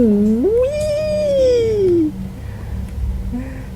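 A cat in a home video game lets out a loud, drawn-out meow with a rising then falling wail lasting about two seconds, followed by a faint short mew near the end.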